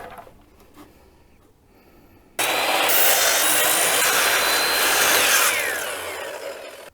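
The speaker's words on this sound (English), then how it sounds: "So the first thing I have to do is cut these at a 45-degree angle" A power saw bites into scrap wood for a 45-degree angle cut, starting abruptly after quiet handling noises and holding a loud, sustained whining cut for several seconds before easing off.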